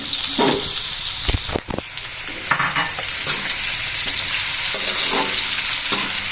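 Hotdog pieces sizzle in a pan for spaghetti, with loud clattering stirs and scrapes over a constant frying hiss, close by.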